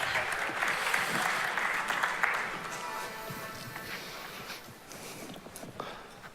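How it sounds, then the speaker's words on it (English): A conference audience at a startup event gives a warm round of applause, dense and lively at first, then gradually thinning and fading as the clapping tapers off. "Please help us give them a warm round of applause"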